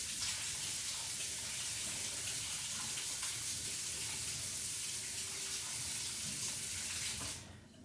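A kitchen tap runs steadily at full flow while something is rinsed under it during baking, a continuous close splashing hiss that cuts off abruptly near the end.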